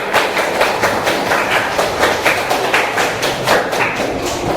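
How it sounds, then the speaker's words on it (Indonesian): A classroom of students applauding together during a lesson: dense, steady clapping with a loose rhythmic pulse, loud and close, continuing throughout without any voices. "Kita beri aplaus untuk ketiga teman-teman kalian yang sudah berani mengungkapkan pendapatnya."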